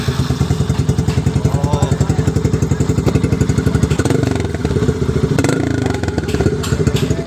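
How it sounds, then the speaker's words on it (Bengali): A Yamaha FZS V2 motorcycle with a modified exhaust runs close and loud, its engine thumping in a fast, even beat that shifts and loosens briefly partway through. "তো বাইকটা এখন স্টার্ট করে দেখবো।"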